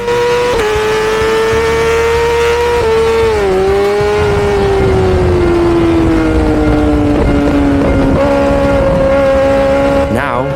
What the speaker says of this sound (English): I can hear the bikes behind me, engines howling.